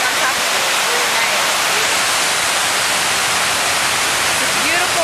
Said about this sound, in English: in Houston, the most beautiful waterfall.